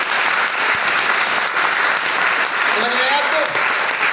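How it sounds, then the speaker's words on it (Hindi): An audience at an AWPL business meeting claps steadily, dense applause filling the room while someone briefly speaks over it. "तो ताली तो बनती ही बनती है।"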